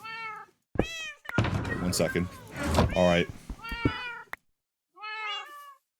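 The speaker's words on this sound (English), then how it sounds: "We are ready to feed the kitties." Several cats meow in a game, short harmonic cries clustered at the start and a lone meow near the end, with a person talking in between.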